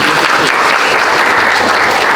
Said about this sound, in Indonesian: Kasih tepuk tangan lagi sekali untuk